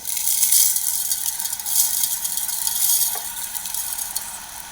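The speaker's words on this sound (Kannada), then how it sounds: "ಸಕ್ಕರೆ ಹಾಕ್ಕೊಂಡು ಇದನ್ನು ಕುದಿಸ್ಕೋಬೇಕು ರೀ" Lemons and sugar bubble in a pan while cooking down for a simple lemon pickle, making a steady, close hiss with a light rattling texture and no voices.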